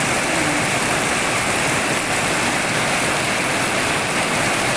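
Heavy rain pours down steadily, a dense, loud hiss filling the whole clip with no pauses.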